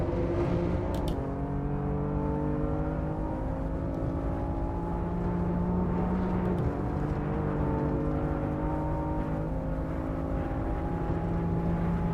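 A BMW M4 in Assetto Corsa on the Nordschleife revs hard under full throttle, a loud, steady engine drone that climbs in pitch through the gears, with one brief shift dip partway through and no talk.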